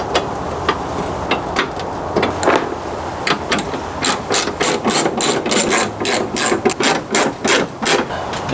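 A ratchet tightens 15 mm bolts on the spare tire mount of a Lexus GX470. The close, fast clicking comes in repeated strokes that grow steadier and more rhythmic toward the end.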